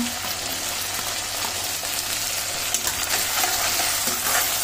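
Garlic-ginger paste and tomatoes frying with browned onions in a pan, giving a continuous close sizzle with occasional stirring scrapes and a low hum beneath, no voices heard.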